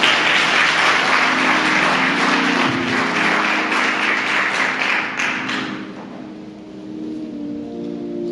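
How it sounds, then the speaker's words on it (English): Church congregation clapping in a round of applause, a loud, dense burst that holds for several seconds, then thins and fades out with a few scattered claps. "let's give ourselves a round of applause"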